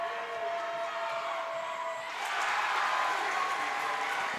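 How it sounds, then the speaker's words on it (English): A home crowd in a high-school girls' basketball playoff final gym erupts in loud cheering and applause as a free throw drops in overtime, broad sustained roar swelling midway and holding, with some voices mixed in. "Loud cheer from the Monarch faithful as that first one drops"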